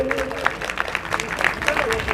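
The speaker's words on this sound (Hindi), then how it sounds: "आप लोग जोरदार तालियों से उनका स्वागत करें" Audience applause welcoming a guest at a Bahujan Samaj Party political gathering, scattered claps popping out over a murmuring crowd while a voice or public-address tone hums underneath throughout.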